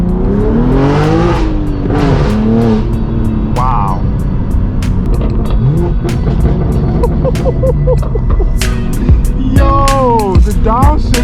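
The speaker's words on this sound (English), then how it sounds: "the downshifts on this car are amazing" A straight-piped BMW M4 G82 rumbles loudly close by, its exhaust rising and falling through sharp downshift blips with crackles, under steady road and wind noise while a person exclaims briefly.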